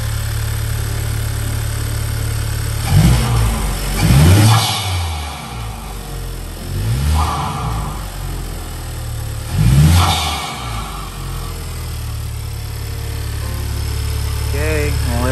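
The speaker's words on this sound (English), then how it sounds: "I'm gonna give it a good little rev" A Honda Civic Type R (FK8) with a PRL inlet pipe and full bolt-on modifications idles with a low rumble, then revs sharply three times in surges that swell and fall back, close and loud.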